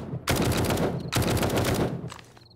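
An automatic weapon fitted with a full-auto mod rattles in 7 Days to Die, two rapid bursts of gunfire separated by a brief gap, loud and close, trailing off at the end.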